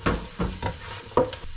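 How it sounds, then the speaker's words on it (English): Onion sizzles and crackles steadily in a hot pan, with a few stirring scrapes, close by and with no talking. "Hear that sizzle,"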